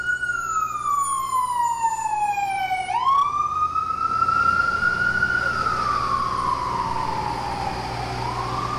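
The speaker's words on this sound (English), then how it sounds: "So since that siren, that ambulance just went by" A loud wailing ambulance siren sweeps up and down in pitch, close by on a street, holding steady throughout as it passes.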